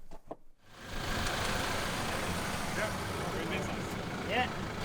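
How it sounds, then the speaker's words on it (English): A car engine starts and settles into a steady idle during an off-road winch recovery, holding a loud, even rumble for several seconds after a brief quiet moment at the start. "Turn the car on, please, Sienna."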